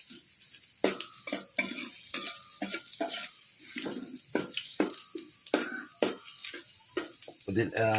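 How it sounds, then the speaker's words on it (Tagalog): Sliced ginger sautés in hot oil in a pan for a tilapia dish, giving a steady close sizzle broken by frequent sharp clinks and scrapes of a utensil stirring against the pan. "Dahil mainit na po, umpisa na po natin maggisa."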